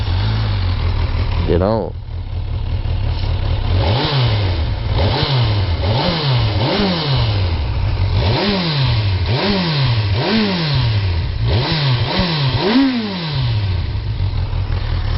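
Kawasaki Versys 1000 SE motorcycle starting up, then revved in repeated short throttle blips over a steady idle, close and clear, with a brief spoken word early on.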